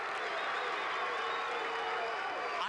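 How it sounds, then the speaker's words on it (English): Tiger fans roar for their defense at a 1989 Moeller versus Massillon high school football game, a dense, sustained crowd din of cheering and clapping filling a stadium, with an announcer talking over it. "Tiger fans trying to cheer on the defense"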